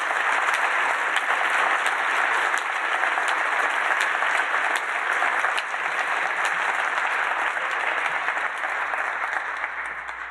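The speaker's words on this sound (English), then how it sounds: "Let's give our panelists and our moderator," A round of applause from the audience at a Minnesota farming panel event, dense steady clapping lasting the whole stretch and tapering slightly at the end, loud and close with no talking.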